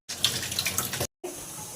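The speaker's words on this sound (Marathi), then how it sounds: "ते धुवून घेते आता स्वच्छ धुवून" Tap water gushes briefly into a sink while vegetables are washed, for about a second, stops, then resumes more softly; no talking.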